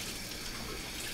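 Tap water running into a cooking pan in a home kitchen, a faint, steady hiss of flowing water that continues unbroken with no talking.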